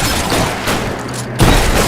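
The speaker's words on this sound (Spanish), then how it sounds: "Es hora de disparar." Gunfire in the video game L.A. Noire comes as a rapid fusillade of shots and booms. A sharp, heavy burst follows a brief lull near the end.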